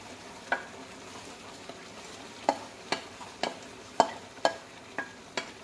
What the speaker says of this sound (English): I'm adding my remaining okra and onion